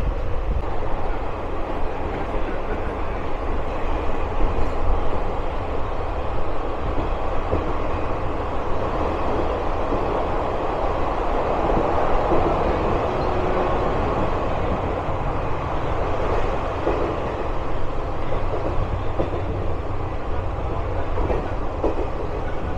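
The Flying Ranee Express, an old non-AC double-decker express train in India, rushes past Bandra station without stopping. It makes a loud, continuous rumble and roar of wheels and carriages, steady throughout and without talk.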